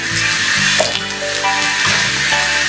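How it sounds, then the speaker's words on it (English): Cumin seeds sizzle in a mix of ghee and oil in which potato and cauliflower were fried, giving a loud, continuous hiss with faint bubbling and tonal undertones and no voices. "I'm putting ghee in the oil, then jeera, that's cumin"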